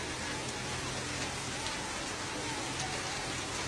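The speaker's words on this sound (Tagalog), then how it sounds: "Ang lakas na naman ng ulan" Heavy rain pours steadily in a flooded street in Barangay Tatalon along G. Araneta, where a bus has stalled. The hiss is dense and constant, with faint voices underneath.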